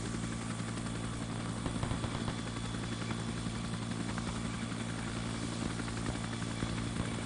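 Huey helicopter in ARMA 3 S.O.G. Prairie Fire, a steady droning engine and rotor hum with low throbbing tones, continuous and fairly close, no talking over it.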